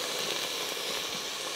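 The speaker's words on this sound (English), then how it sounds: "you can start to hear that it's now sizzling at the bottom, which means most of the liquid is now gone" Onion soup sizzles and hisses faintly at the bottom of a pot as the last of its liquid cooks off, a steady soft steamy crackle with no talking.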